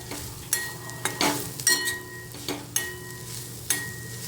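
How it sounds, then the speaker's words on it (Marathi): Spices sautéed for a brinjal and potato dish, stirred in a pan with a spoon: regular sharp clinks and scrapes every half second or so over a soft, low sizzle, with no talk. "आता हे मसाले पण आपण व्यवस्थित परतून घेऊया"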